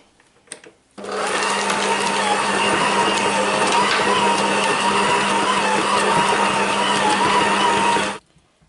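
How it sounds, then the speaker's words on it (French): Electric mixer whirring steadily through a nougat mixture of almonds and hazelnuts, a loud, even motor hum that starts after a brief clatter and runs unbroken for about seven seconds before cutting off. "Et je vais venir mélanger pendant environ 2 minutes."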